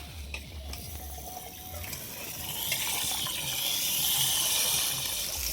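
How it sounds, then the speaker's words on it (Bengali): Rice, an aromatic variety, being rinsed under running water in a sink in a village kitchen; a steady wash of flowing water that grows a little louder partway through, with no talk. "চালগুলো ধুয়ে নিচ্ছি।"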